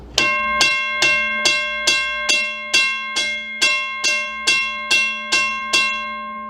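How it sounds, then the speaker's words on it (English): Railroad crossing bell struck repeatedly by its gong, ringing in a fast, steady rhythm of about two strikes per second with sustained metallic overtones, loud and close with no talk. "it will take and ring the bell, or it'll strike the bell and have the gong hit it."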